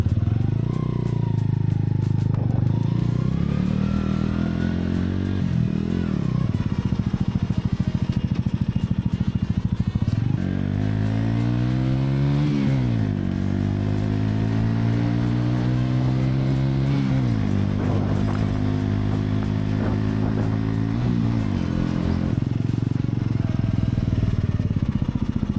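A 125cc motorbike ridden around the block, its engine loud and near, revving up repeatedly through rising and falling gear pulls with brief drops between shifts.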